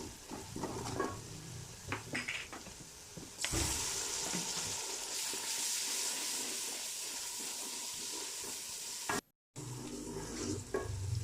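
Curry leaves and kadhi masala are stirred in a hot pan, giving a loud continuous sizzle and hiss with scraping stir strokes, broken by a brief silent gap near the end.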